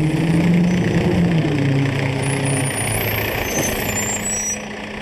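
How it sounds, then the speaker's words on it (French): Garbage collection trucks working at night in Washington DC, a steady close engine rumble with low harmonic drone and faint high whines throughout, no talk. "à peine est-elle perturbée par le bruit des camions de ramassage d'ordures"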